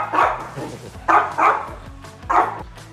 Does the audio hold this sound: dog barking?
yes